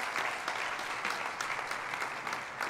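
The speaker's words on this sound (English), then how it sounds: "Let's give him a warm applause." A church conference audience gives a warm round of applause, continuous clapping from many hands, fairly soft and even, with no speech over it.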